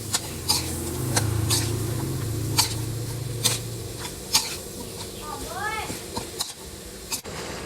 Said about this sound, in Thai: แล้วเราก็คนให้เข้ากันครับ